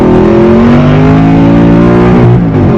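A Liberty Walk-bodied Audi R8, the only one in Thailand, roars loudly from inside the cabin while being driven, its engine note climbing and shifting with revs in a continuous, dense drone and no talking.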